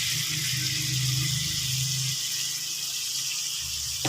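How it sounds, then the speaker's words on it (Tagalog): Coconut milk (gata), first pressing, poured into a pan for ginataang bangus: a steady close liquid pour with a soft watery hiss running the whole time, faint kitchen hum underneath. "Naglalagay tayo ng gata."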